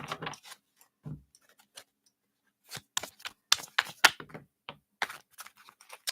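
Soft papery flicks and taps as tarot cards are shuffled by hand, irregular clusters of quick clicks, close and quiet with pauses in between.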